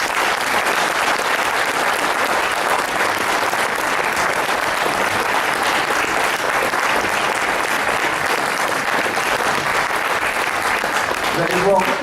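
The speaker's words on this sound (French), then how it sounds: "Merci de les applaudir très fort." Loud, steady applause from an audience at a political speech, greeting a slate of 22 running-mate candidates, sustained dense clapping that fills the whole stretch with no break.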